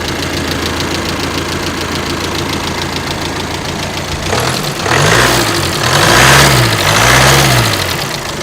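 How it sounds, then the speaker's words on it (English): Volkswagen Amarok engine idling steadily after a jump start from a dead battery, then revving up in a few rising and falling swells, close and loud with no talking. "It brought this dead battery to life and got this Amarok rolling."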